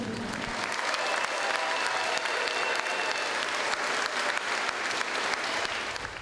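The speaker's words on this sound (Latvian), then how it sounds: "Tādēļ arī šie aplausi." Sustained audience applause at a 2005 talk by a priest on deliverance ministry, a dense, steady wash of clapping from a large crowd that holds for about six seconds.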